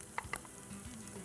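Onions fry to golden brown in a pan, a faint, steady sizzle with a few quick stirring clicks near the start.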